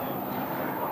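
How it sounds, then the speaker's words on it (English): A Beechcraft King Air arriving at Scottsdale Airport makes a steady, broad engine roar, fairly loud and even across a brief moment. "Looks to be a Beechcraft King Air."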